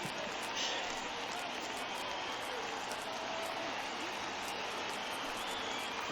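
A baseball stadium crowd in Miami rises and cheers on a 3-2 count, a broad, sustained roar of voices and applause with commentary over it.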